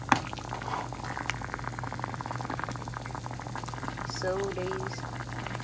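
Gari cooks in boiling water in a pot, bubbling and hissing steadily up close while a person speaks briefly over it.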